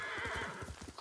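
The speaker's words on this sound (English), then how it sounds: "Horse!" A horse in the video game Ghost of Tsushima whinnies close by while its hooves clop in a quick rhythm, loud and brief.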